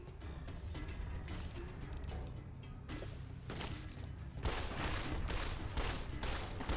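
Rapid bursts of gunfire from Fallout: New Vegas, a dense fusillade of overlapping shots with thuds, loud and continuous throughout, intensifying toward the end.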